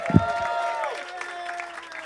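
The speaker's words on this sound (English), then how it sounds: "Start clap right now for Erickson Dockery, everybody." Brief burst of audience clapping and cheering at a comedy showcase as a comedian is brought on stage, with a music sting playing over it.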